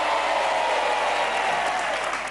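A studio audience on a family game show claps in a dense, sustained ovation that stays loud and even, with light crowd noise mixed in.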